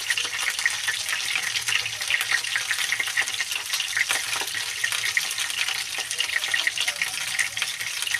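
Bhola fish frying in a pan, a dense, even sizzle and crackle of hot oil heard close and steady for the whole stretch, with no talking over it.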